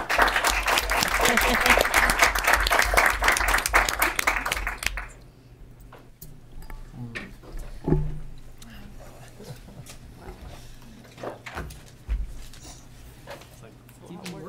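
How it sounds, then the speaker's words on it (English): An audience applauds its speakers after a panel on Brazil's election and democratic governance, loud dense clapping for about five seconds, then fading to sparse scattered claps and quiet murmuring. "I'd like everyone to give a round of applause to our wonderful speakers."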